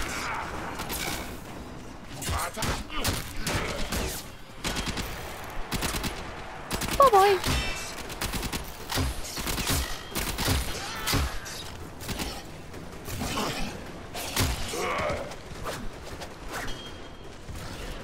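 Rapid bursts of heavy weapon fire and cannon blasts from the video game Warframe, loud and continuous with whooshes and mechanical clanks.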